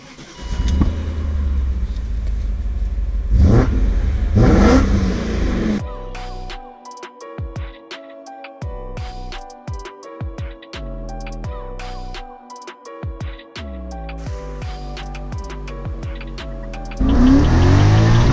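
A V8 engine on a car with 220,000 miles, starting with broadband roaring revs, then a run of sharp, choppy bursts and pulses, finishing with another loud rev, close and alone with no talking.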